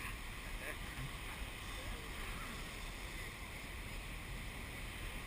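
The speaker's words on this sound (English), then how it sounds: "Wow, those are some big waves." Big ocean waves breaking at Hookipa on Maui, heard as a loud, continuous roar of surf mixed with wind buffeting the microphone, steady throughout with voices talking over it.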